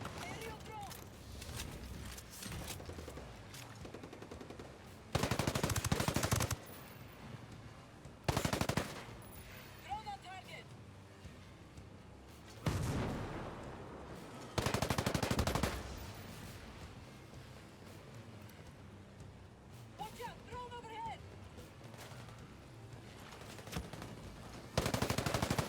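A turret machine gun firing in Ghost Recon: Breakpoint, with several loud, sustained automatic bursts of a second or two each, separated by quieter stretches of game ambience. A player talks between the bursts.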